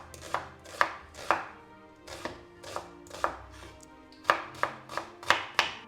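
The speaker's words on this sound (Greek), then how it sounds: "Ετοιμάζουμε και το κρεμμύδι, το οποίο θα το κόψουμε μέσω φέγγαρο." Knife chopping an onion into half-moon slices on a board while preparing pork with prunes: a dozen crisp, close, fairly regular thuds in quick clusters, with no talking.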